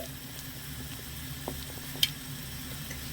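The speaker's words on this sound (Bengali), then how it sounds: "তো দেখুন একবারের মতন আমি মিষ্টিগুলো দিয়ে একটু ফুটিয়ে নিয়েছি" Fried semolina sweets simmering in sugar syrup on a gas stove, a soft continuous bubbling sizzle with a few faint pops and one sharper tick, no talking.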